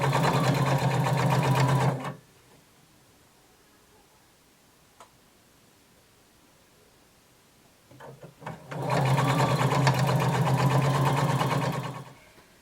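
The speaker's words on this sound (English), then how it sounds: "I'm going to sew all the way around my lining, close to the folded edge." A sewing machine stitches around a skirt lining near its folded edge in two loud, steady bursts of rapid motor whir, separated by a long quiet pause with a few small clicks and handling sounds.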